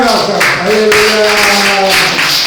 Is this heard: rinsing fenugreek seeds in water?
no